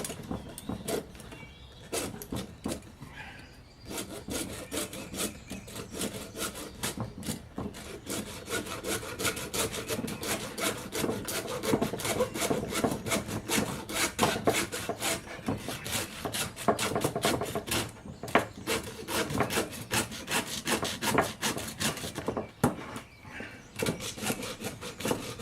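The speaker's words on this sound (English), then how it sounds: "take this little hacksaw and I'm going to saw them off the length." A small hacksaw cuts off a turkey's spurs with steady, close, rasping back-and-forth strokes that continue in an even rhythm for the whole stretch, with no talk over them.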